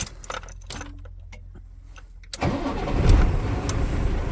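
A Scania truck engine cranks and catches after a couple of seconds of small clicks and rattles, then settles into a loud, rough, low idle that runs to the end.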